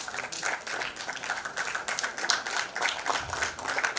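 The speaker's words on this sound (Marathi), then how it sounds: "जोरदार टाळ्या वाजवूया." An audience claps steadily at a Marathi film music launch event, a dense patter of many hands at moderate distance with no speech over it.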